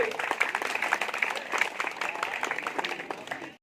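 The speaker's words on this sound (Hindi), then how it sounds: "आप सबकी जोरदार तालियां हो" Applause from the audience at a Karni Sena meeting, a moderate crowd clapping steadily with scattered sharp claps, fading at the close.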